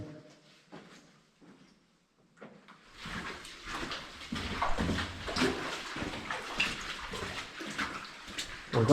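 Wading through shallow water inside an old 1820s slate mine in North Wales, with splashing and sloshing steps starting after a quiet few seconds and continuing steadily, close and moderately loud in an enclosed space.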